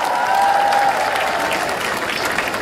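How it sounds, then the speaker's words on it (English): An audience at an opening-day festival event claps in a steady, full round of applause, sustained evenly from start to finish with a faint tone early on. "Let's give them a round of applause."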